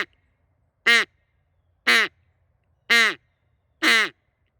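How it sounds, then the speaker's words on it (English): A Duck Commander Shadow single-reed duck call with a wedge blown as four evenly spaced, loud, nasal quacks, each a short bright burst about a second apart over near silence. "Sounds like a duck."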